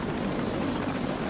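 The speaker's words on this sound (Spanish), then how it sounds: "De cerca del helicóptero." Helicopter in the video game Batman: Arkham City, a steady, dense whirring rotor drone that holds at an even, fairly loud level throughout with no talk over it.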